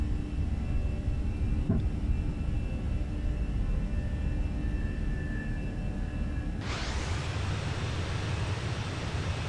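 A Fenix A320 jet rolls and takes off in Microsoft Flight Simulator, a steady broad engine roar with low rumble that swells into a louder, brighter rush of wind and thrust partway through, with no talking.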